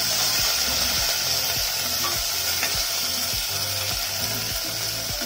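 Okra and tomatoes roasting in a pan give a constant bright sizzle, with a rhythmic series of low scraping strokes as they are turned. Close, loud and steady throughout, with no voices.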